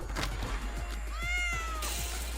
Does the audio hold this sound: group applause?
no